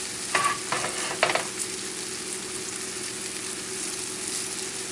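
A sole fillet sautéing in a pan gives a soft, steady sizzle, with a few brief louder crackling bursts near the start before it settles into an even hiss.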